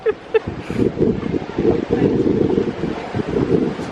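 Gusty wind buffets the microphone with a steady low rumble that rises and falls, loud and close.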